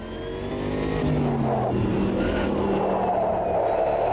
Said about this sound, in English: So let's see how the car feels when driving.